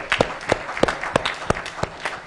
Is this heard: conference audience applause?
yes